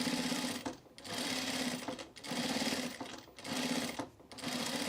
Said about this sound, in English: I'm just gonna edge stitch it